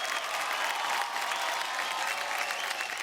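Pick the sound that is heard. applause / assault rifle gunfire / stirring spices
applause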